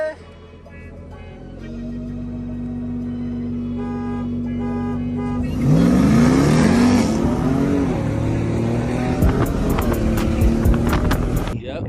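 A Dodge Scat Pack and a 2021 Ram TRX accelerate hard side by side in a race, the engine roar swelling loudly and rising in pitch through the gears, heard close from inside a vehicle.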